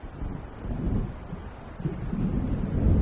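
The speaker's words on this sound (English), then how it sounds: "It seems there's a storm coming." A thunderstorm rolls in over a lake in Alan Wake, heard as low rumbling thunder and gusting wind that swell steadily, with no voices.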